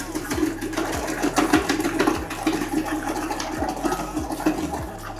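Commercial kitchen vegetable cutting machine running, a steady mechanical whir broken by regular heavy thumps from the cutting action, loud and close with no talking.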